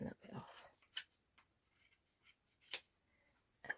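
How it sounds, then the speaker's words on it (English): Scissors trim card stock for a stepper card in a few sharp, separate snips, faint and close, with quiet talk around them. "Let me just trim that bit off."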